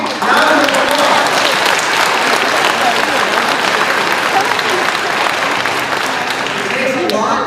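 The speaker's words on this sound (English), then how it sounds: "Give them a big round of applause." A conference audience claps continuously and loudly from start to finish, a dense wash of applause from a large crowd.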